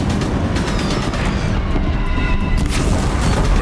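Heavy Deathbringer machine guns firing on a bridge in Horizon Zero Dawn, a loud continuous barrage of booming blasts and rumbling impacts with no pauses.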